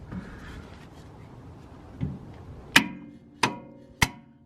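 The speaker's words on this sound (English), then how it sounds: "I think if I hit it with a hammer, it will probably go in." A hammer strikes a rear spring part into place on a Toyota Rav4 Prime during an Eibach Pro-Lift spring install. Three sharp, close, metallic blows land about half a second apart after some quieter handling noise.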